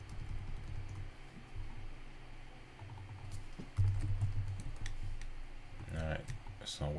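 Clicking keystrokes on a computer keyboard patter quietly in irregular bursts over a low background hum, with faint speech at times.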